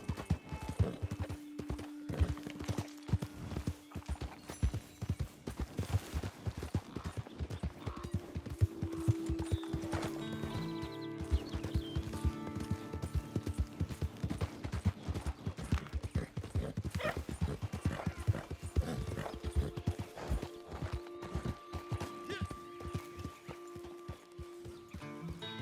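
Steady horse hooves clip-clop in Red Dead Online as a horse travels at a brisk, even rhythm for a long stretch, with an occasional whinny and a low background drone.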